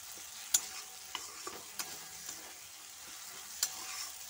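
Chicken frying in pure mustard oil for Bengali chicken kosha, a soft continuous sizzle with occasional sharp pops and spatula scrapes against the pan, fairly quiet and close.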